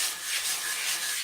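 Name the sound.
sanding model with sanding block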